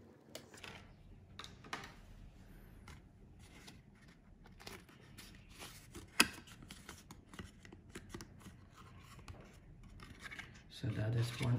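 Scissors snip and rasp through card stock for a magician's card box, with faint scraping and rubbing, one sharp click partway through and rustling handling noise near the end, all quiet and close.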